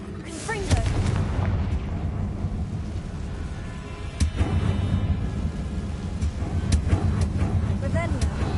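A Confringo spell blast in the Hogwarts Legacy game, heard as heavy booming explosions with rumbling low-end impacts around the one-, four- and seven-second marks over constant battle noise.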